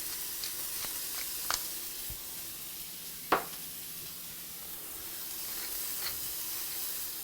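A burger patty sizzles in a hot skillet, a faint, steady frying hiss with a few scattered pops and one sharper crackle partway through.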